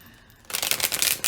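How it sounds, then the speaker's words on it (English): A deck of tarot cards is shuffled close up, a quick burst of crisp riffling flutters that starts after a short quiet moment and continues briefly. "I always like to shuffle on camera"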